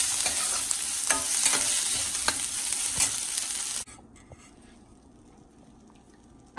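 Ginger garlic paste stirred into onions frying in a pan: loud, dense sizzling with scraping strokes of a spoon for about four seconds, then the sound drops to a quiet hush.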